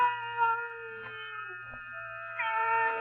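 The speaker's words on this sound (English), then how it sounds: "the cat I'd heard wasn't a part of my nightmare, but was real" A cat cries with several drawn-out, wavering meows, clear and close against silence, used as a sound effect in a 1948 radio drama.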